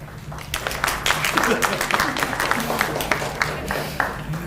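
Audience applause at the close of a community grant public input session in Valemount, a dense wash of clapping filling the room and sustained steadily throughout, with some voices mixed in.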